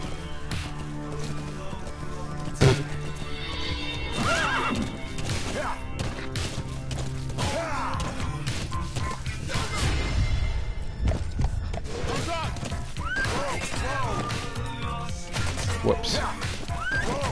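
A horse in Metal Gear Solid V: The Phantom Pain whinnies over game sound, with clip-clopping hooves, thumps and crashes mixed in and a player's voice speaking at moments.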